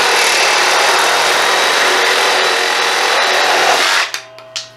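Hercules brushless reciprocating saw from Harbor Freight cutting under heavy pressure, a loud steady buzzing roar that holds without bogging for about four seconds, then cuts off, followed by two brief clanks as the blade winds down.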